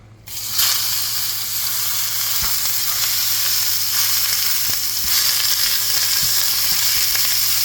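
Minced beef sizzles and fries in olive oil in a saucepan, a loud steady crackling hiss that starts abruptly and carries on without pause, with a few faint stirring knocks and no talk.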